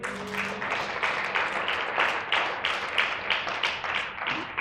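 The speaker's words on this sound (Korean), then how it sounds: "박수 영광을 돌려봅니다." A church congregation claps in steady rhythmic unison during worship, the sharp, dense hand claps keeping an even beat throughout with no break.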